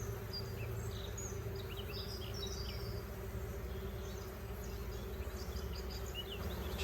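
Steady insect hum from a honeybee colony recently removed from an attic, a continuous low drone with scattered higher buzzes of individual bees flying close by, no voices.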